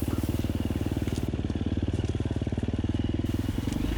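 A 2018 KTM 350 XCF dirt bike with a Rekluse Radius CX clutch climbs a loose, rocky, off-camber hill, its engine producing a close, steady, rapid thumping beat throughout.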